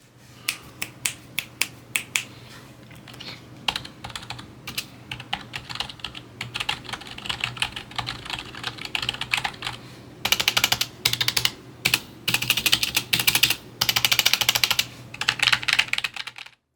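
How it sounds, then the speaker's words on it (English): Keys on a Redragon membrane keyboard are typed in quick, close clicks, first sparse and uneven, then in dense bursts of rapid tapping, soft and muted, with no voices. "The key feels like any membrane keyboard, soft, mushy, and quiet"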